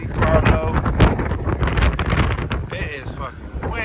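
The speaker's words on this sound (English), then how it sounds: "It is fucking windy. This wind is different." Strong outdoor wind buffets a camera microphone, producing a loud, continuous low rumble and gusting roar, with a person talking over it.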